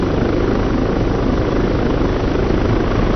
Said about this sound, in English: I love the wind sounds.